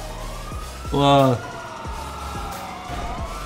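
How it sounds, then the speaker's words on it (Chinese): Police car sirens in the GTA5 video game, a loud wailing siren rising and falling through the clip, with one louder burst, over game engine noise and a speaker's excited exclamation. "啊，有更多警车来了！"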